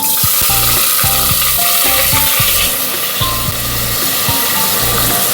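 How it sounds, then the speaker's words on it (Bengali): Chopped onion frying in hot oil for egg pulao gives a loud, steady sizzle and hiss throughout, with clinks and scraping of the pan close by and no talking. "পেঁয়াজটা এবার হালকা করে ভেজে নেব"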